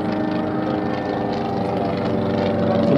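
A propeller-driven plane performs aerobatics at a Duxford air show, its engine drone steady and loud, holding a continuous, slightly rising roar throughout.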